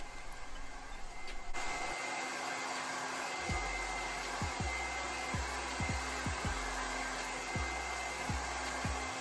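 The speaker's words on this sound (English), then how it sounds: "after that I go in with my blow dryer" A blow dryer runs close and steady on 4B natural hair, a continuous airy roar through the whole stretch, with soft intermittent knocks and handling bumps underneath.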